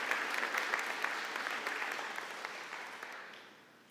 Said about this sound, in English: So let's give them all a round of applause for being here.